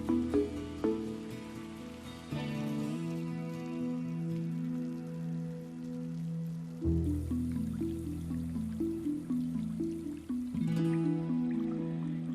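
An indoor water fountain inside Hamad International Airport in Qatar gives soft, irregular dripping and splashing over a sustained tonal hum, faint and calm with no speech.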